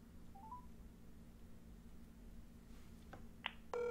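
Phone dialing tones sound faintly over speakerphone: a few brief quiet beeps over a low hum, then a steady ringback tone starts at the end.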